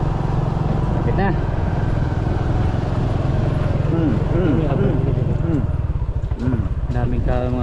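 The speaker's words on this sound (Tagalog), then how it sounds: "Daming ka mga to, motor mga idol." Several motorcycles putter and buzz along a village road in Sitio Bigot, Barangay Zamora, engines close and busy, with people talking throughout.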